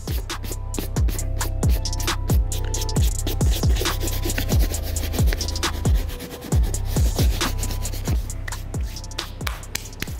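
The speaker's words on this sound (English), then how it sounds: "grab our soft bristle brush and brush off all the surface dirt off the uppers" Soft bristle brush scrubbing surface dirt off the suede uppers of an Air Jordan 12 Olive sneaker, a steady close rubbing rasp broken by quick repeated stroke scratches throughout.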